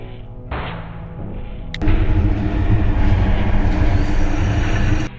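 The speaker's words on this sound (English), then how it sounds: "A train is en route." Train approaching on a railroad track where a car sits stalled: a low rumble builds, then a sharp thump leads into a heavy, steady roar of rolling wheels and engine that holds loud before cutting off.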